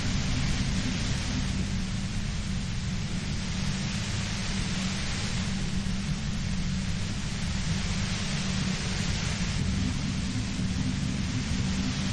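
Steady, loud broadband hiss of white noise ambience from the game Disco Elysium, an unbroken static wash with a rumbling low end, unchanging throughout and with no voices.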